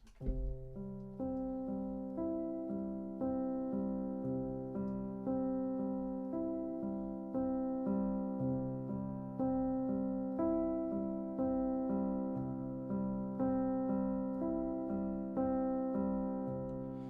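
A piano plays a repeating left-hand pattern on a major chord, a steady rolling figure of sustained notes with regular pulses, soft ambient night-piano style, alone without talk.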